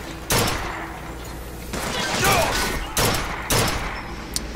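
Carbine fire from Bioshock Infinite comes in a few loud, close bursts and single shots, with busy game noise between them.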